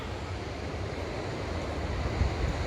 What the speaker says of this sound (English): The waves aren't very big today.